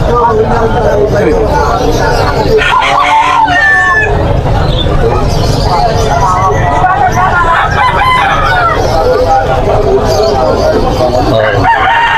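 Seven-month-old gamecock stag crowing at a crowded open-air market in Malabon, a loud drawn-out crow ringing over other roosters clucking and crowing, with busy chatter and human voices throughout.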